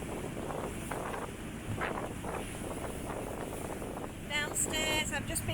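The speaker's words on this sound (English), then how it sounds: "So that's how windy it is." Strong wind on a boat's sailing trip from North Shields to Amble roars and buffets the microphone steadily, with gusts rising and falling and a brief higher rattling near the end.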